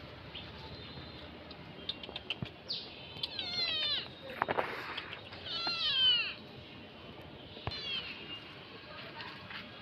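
A cat meows several times outdoors amid green nature, with rising and falling cries clustered in the middle and a final meow near the end, close and fairly clear over quiet background rustling.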